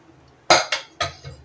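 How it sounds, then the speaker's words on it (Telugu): A pressure cooker lid comes off after cooking chicken, giving a sharp metallic clank followed by a few lighter rattling knocks over about a second, close by and with no talk. "ఇప్పుడు మూత తీసి చూద్దాం"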